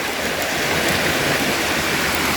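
Water flows along a stream where fish traps are set, a dense, steady rushing wash heard up close and fairly loud, unbroken and without talk.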